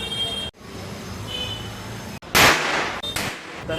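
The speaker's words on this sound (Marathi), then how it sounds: "टेरेसवर फटाके फोडायला आलोय. मंथन फटाका फोडणार आहे." Diwali firecrackers bursting on a terrace, two sharp loud cracks with hissing bursts in the second half, following quieter background ambience.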